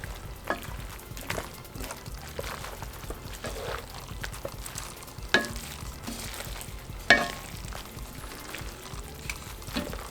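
Cabbage frying with bacon in a pan, sizzling steadily close by, with occasional stirring scrapes and a couple of sharper clacks and no one talking.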